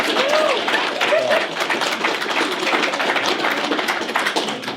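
Audience clapping at a panel talk with a comic writer, dense and steady for a few seconds with some voices audible over it.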